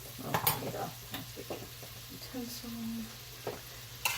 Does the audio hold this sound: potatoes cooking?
yes